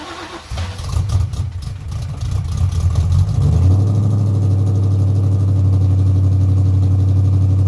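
A Ford SVT Cobra V8 cranks over and catches on its first start after sitting, then settles into a loud, steady, slightly uneven idle up close.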